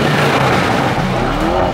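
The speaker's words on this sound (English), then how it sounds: "It loves to almost pull its front wheels off the ground on a hard launch" A Mercedes G63 AMG makes a hard launch: a loud, close engine roar rises sharply in pitch over a brief burst, with a hint of tire noise and no talking.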